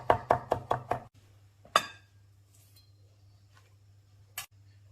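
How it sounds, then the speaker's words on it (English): A knife finely chopping shredded ingredients on a board: a quick run of five crisp, close chops, then a single louder chop, followed by near silence over a low steady hum. "once we've shredded it, we can give it a fine chop"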